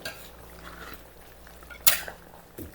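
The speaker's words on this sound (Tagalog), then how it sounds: "Halo. haloin natin." Pork ribs kaldereta is stirred in a pot: quiet scraping and a soft simmer, broken by a sharp metallic clank of utensil on pot and a lighter knock near the end.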